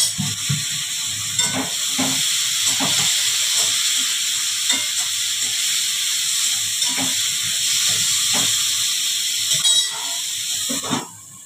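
Food fries in a pan with a constant bright sizzling hiss, broken by occasional soft clinks and pops over the course of the frying.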